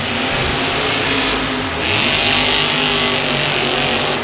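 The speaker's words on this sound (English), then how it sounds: "This truck is screaming right now." A monster truck engine roars at full throttle during a Monster Jam event at LoanDepot Park in Miami, a loud, sustained, screaming rev that swells a little higher partway through.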